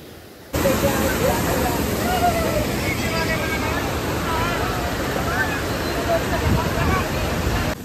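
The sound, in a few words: waterfall, forceful flowing water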